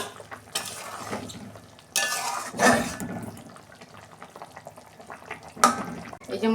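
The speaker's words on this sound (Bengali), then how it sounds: "ঢাকনাটা খুলছি।" Metal lid lifted off a pan of pomfret with cauliflower and potato simmering on a low gas flame, giving a couple of brief clattering bursts over a continuous soft bubbling and sizzling.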